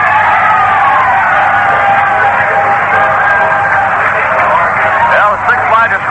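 A huge crowd at a Chicago White Sox home game against the New York Yankees, heard over a radio broadcast, roars and cheers in a sustained loud wash, with yells and whoops rising near the end.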